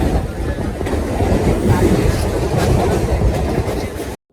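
A train rumbles at a station, a steady low roar with rattling wheels, fairly loud and continuous before cutting off abruptly near the end.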